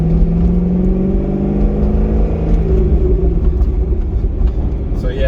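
A Corvette C6 Z06 with a 6-litre naturally aspirated engine runs close by, producing a loud, steady, deep rumbling drone with layered humming tones that hold throughout.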